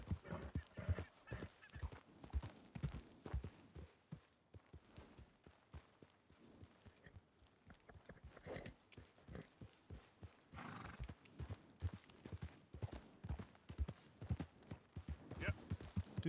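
Rapid rhythmic hoof clops of a horse in the video game Red Dead Redemption 2, steady and fairly close, with a whinny and a person talking over the galloping.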